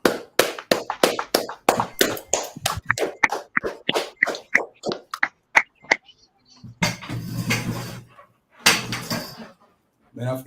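A small group claps in loud, sharp, irregular bursts at close range for a teacher at a religious gathering, then pauses before brief scattered noise returns.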